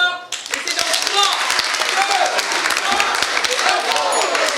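Audience applause and cheering for improv performers at a student improv festival, a dense, steady wash of clapping that starts abruptly and holds loud throughout.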